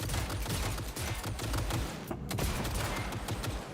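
Rapid automatic gunfire in Cyberpunk 2077 on PC, aimed at turrets, rattles in dense continuous bursts, loud and close, with a brief lull midway and no speech.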